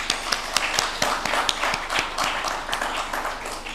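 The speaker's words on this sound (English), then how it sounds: "Another big round of applause for Ms." An audience gives Ms. Mira a round of applause at a conference inaugural session, with individual hand claps standing out sharply in an uneven, moderately close patter.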